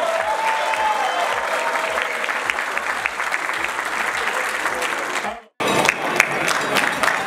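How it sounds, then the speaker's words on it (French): Loud, dense ovation from an audience at a padel Grand Prix ceremony, sustained clapping with a rhythmic thudding underneath, briefly cutting out near the end before resuming just as strongly. "je voudrais que vous ovationnez très fort"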